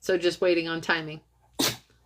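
A single short, sharp sneeze bursts out just after a brief spoken phrase, loud and close, ending the clip.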